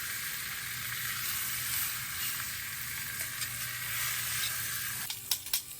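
Beef cheeks brown in a pan at a campsite, a steady bright sizzle running throughout with a few clattering knocks of utensils near the end.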